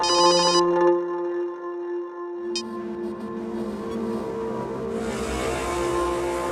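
A telephone rings in short electronic tone bursts, one brief ring at the start and another shortly after, over a steady background hum in an indoor dramatized scene.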